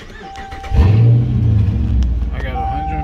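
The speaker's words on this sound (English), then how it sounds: "Let me cut my car on" A high-mileage Mopar car engine cranks and catches, then settles into a loud, close, rumbling rev with a low throaty idle, while someone talks over it.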